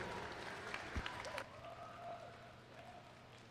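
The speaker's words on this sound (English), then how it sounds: "One more time, please, a round of applause for our class of 2026." Audience at a school swim meet applauding the class of 2026: steady, fairly faint clapping in a reverberant pool hall, tapering off toward the end.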